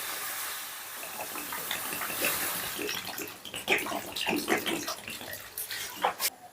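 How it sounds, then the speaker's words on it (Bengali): Water is poured from a vessel into a kadai holding washed potatoes and yam set on a gas stove, a steady close splashing gush that breaks into uneven trickles and drips toward the end. "এবারে দিয়ে দিচ্ছি পরিমাণ মতো জল।"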